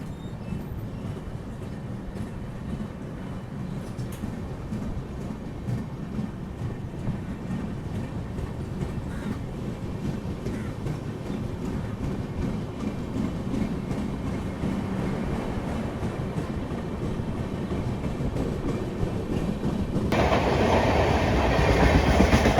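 Steady rumble and rhythmic clatter of the Tirumala Express running on rails, continuous and fairly close throughout, growing louder and brighter near the end as a high whine joins in.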